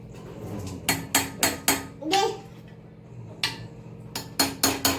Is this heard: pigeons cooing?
no